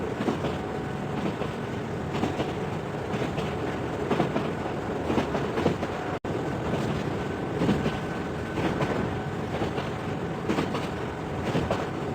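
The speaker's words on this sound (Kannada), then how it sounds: "the 12:45 p.m. express train from Central Station is now arriving" An express train arriving at a station rumbles past with rhythmic clickety-clack of wheels on rails, steady throughout with a brief dropout midway.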